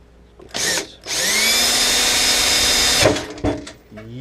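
A power drill driving a screw without a pilot hole whirs in a short burst, then runs steadily for about two seconds before stopping, loud and close.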